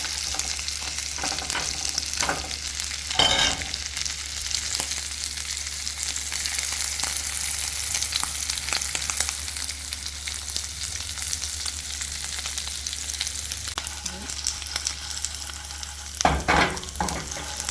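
Corn pork fries steadily in a pan for a Jamaican corn pork and ackee dish, a continuous close sizzle and crackle with a few louder pops and stirring clatters, no talking.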